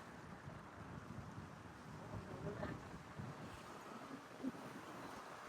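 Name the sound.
strong wind at the seashore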